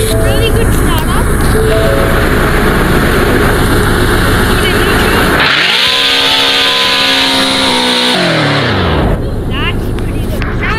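A Ford Mustang GT350R engine starts up and revs hard: a loud, close rumble climbs into a sustained high roar, drops back, then swells again. Voices talk around it.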